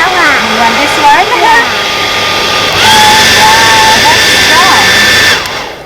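A TRESemme Power Lightweight hair dryer blows in a steady, loud whooshing roar with a whine that shifts as settings change, while people talk over it close by.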